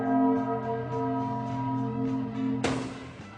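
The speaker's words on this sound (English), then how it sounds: "but first it's chime time" A ringing chime sound effect from a TV show, a sustained bell tone with a clear pitch that rings steadily, then a sharp burst of noise near the end cuts across it.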